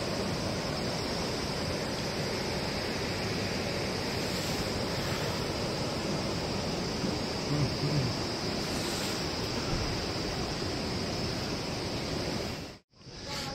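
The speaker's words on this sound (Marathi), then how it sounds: "हे बघा, समोरच नदी वाहते." A river flowing right beside a tented campsite, a loud, steady broadband rush of water close by with no breaks, ending in a brief dropout.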